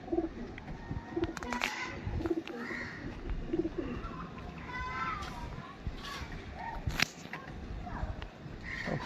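Pigeons in a loft during rainy-season weather coo in soft, repeated low phrases, with scattered chirps and distant voices and children in the background.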